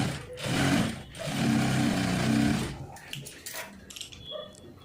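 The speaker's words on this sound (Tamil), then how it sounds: "இப்போ உள்பக்கமாக தையல் போட்டுக்கலாம்" A sewing machine stitches along the inner edge of canvas in a blouse sleeve, running in two steady, close whirring bursts before dropping to quieter clicks and handling sounds.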